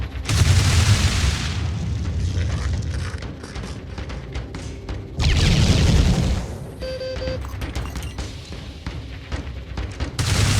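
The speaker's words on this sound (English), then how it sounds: "At 800, we are both going to open fire." Heavy weapon fire and explosions in the video game Phoenix Point, two big booming blasts a few seconds apart with rumbling tails and smaller crackling impacts and clanks between them.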